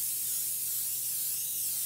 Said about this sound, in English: I just sprayed a 9 by 13 inch pan.